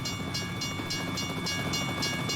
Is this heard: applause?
no